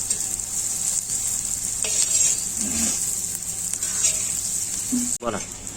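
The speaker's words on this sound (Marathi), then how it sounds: "कांदा टाकून घेत लाल असं चांगलं परतून घ्या कांदा" Onions frying in a pan for bombil (Bombay duck) dry chutney, a steady close hiss of sizzling oil with occasional stirring scrapes and a brief knock near the end.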